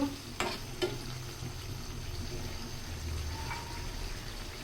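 Jackfruit seeds tip into a pan of frying dried fish and snake gourd curry: a couple of sharp knocks and splashes, then a steady low sizzle and bubbling close by.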